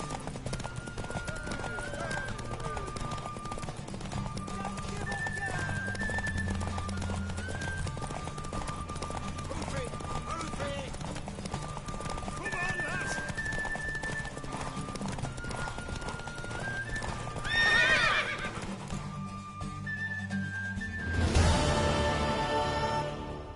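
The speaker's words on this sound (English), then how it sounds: "Want that horse, don't ya?" Rhythmic clip-clop of horse hooves runs throughout alongside a neigh, with background music, a few game sound effects, and voices talking, from a PS4 video game.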